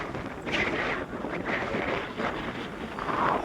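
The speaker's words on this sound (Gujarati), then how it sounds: "પવન બહુ આવે" Strong wind on the Narmada riverbank buffets the microphone in a continuous rumbling roar, gusting slightly louder near the end, with no talking.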